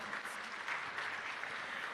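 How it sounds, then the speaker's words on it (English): Audience applause at a public-sector launch event, a steady dense patter of many hands clapping at moderate distance throughout, with no talk. "Another rousing round of applause for all the change makers"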